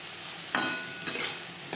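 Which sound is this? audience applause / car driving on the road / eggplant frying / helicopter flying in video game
eggplant frying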